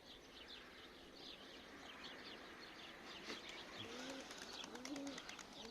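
Pigeons coo softly in a rooftop loft while some fly about, faint and distant over a steady background hiss, with a few short calls and wing flutters near the end.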